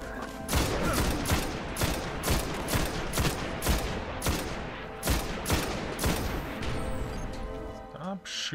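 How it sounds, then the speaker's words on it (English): Rapid bursts of gunfire and explosive grenade missiles from Destiny, in a buried city, sound in a dense, loud, repeated barrage of sharp blasts that runs almost continuously with speech mixed in. "Stop shooting grenade missile things at me."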